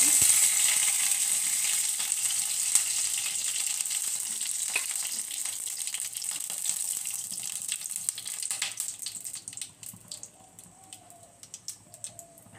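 Bay leaf and whole garam masala sizzling in hot oil in a pot for Hyderabadi biryani, a close, steady bright frying hiss that gradually settles into sparser crackles toward the end.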